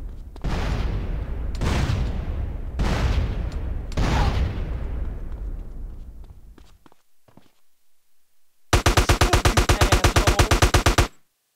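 Gunfire in the GTA San Andreas DYOM mission game: several heavy booming shots with long decaying tails, then a rapid automatic burst of evenly spaced loud rounds lasting about two seconds.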